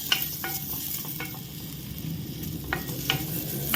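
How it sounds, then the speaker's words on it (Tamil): Dates sautéed in a pan with ghee after roasted nuts, giving a steady low sizzle with scattered scraping stir strokes of a spoon against the pan, close and fairly quiet, no voices. "இதே பேன்லேயே டேட்ஸையும் சேர்த்து வதக்கிக்கலாம்"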